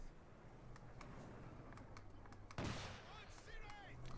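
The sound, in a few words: sniper shot in video game Company of Heroes 2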